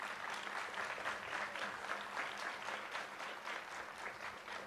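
Steady crowd applause at a State Fair event for the fair's director, a dense continuous clapping held at an even moderate level throughout, heard from within the audience with no talk over it.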